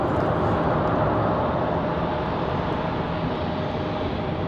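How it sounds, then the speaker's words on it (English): An Alaska Airlines jet comes in to land at RDU on a windy day, giving a constant dense wash of engine and air noise, even in level and fairly loud throughout. "Alaska Airlines coming down the hill."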